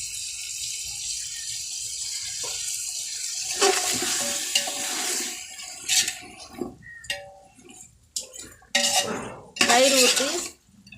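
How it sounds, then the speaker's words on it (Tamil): Chicken biryani with yogurt being stirred in a pot: clattering bursts of a spoon scraping and knocking against the metal, irregular and fairly close, between quieter stretches. "தயிர் ஊற்றி ஒரு 5-10 நிமிஷம் நல்லா கிளறி விடுவோங்க."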